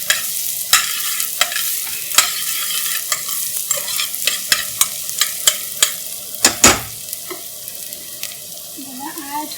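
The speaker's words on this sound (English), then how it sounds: "Fry them off until they're caramelized a little bit." Food frying gently in a pan over low heat, with soft sizzling throughout and repeated scraping, clinking strokes of a utensil stirring at an uneven rhythm, close and clear with no talk.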